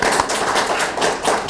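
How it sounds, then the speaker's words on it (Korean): Audience applause at a software conference talk, a steady dense wash of clapping from a crowd, fairly loud and even throughout with no speech over it. "먼저 박수 잠깐 보내주세요."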